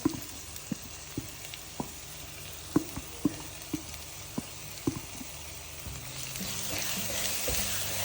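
Chili frying in a pan as tomato gravy goes in for tomato fish curry, a steady sizzle with regular sharp clicks of stirring, swelling into a louder, brighter hiss near the end.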